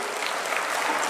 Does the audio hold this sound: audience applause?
yes